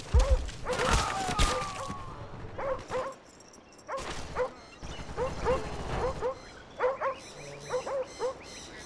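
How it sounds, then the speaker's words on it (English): Attack dogs in Call of Duty: Black Ops bark and yip in quick, loud bursts, close by, with some whimpering between barks and game sounds around them. "Dogs incoming."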